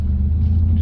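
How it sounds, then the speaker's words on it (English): A 2005 Toyota Tundra Limited 4x4 rumbles steadily at close range as it is shifted into drive, a low, even engine drone lasting about a second with no talk. "Here's how it sounds when I shift into drive. It lurches just a little bit from reverse or neutral into drive."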